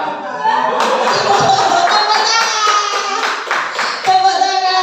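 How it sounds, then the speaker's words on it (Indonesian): A group clapping hands in applause at a school session, a loud, close burst of steady clapping lasting several seconds with voices and light laughter mixed in. "Tepuk tangan."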